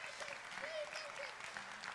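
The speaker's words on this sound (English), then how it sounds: "everybody give him a round of applause." An audience in a church gathering claps together, a dense, continuous burst of applause with a faint voice underneath, short and fairly close.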